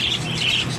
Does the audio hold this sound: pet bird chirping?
yes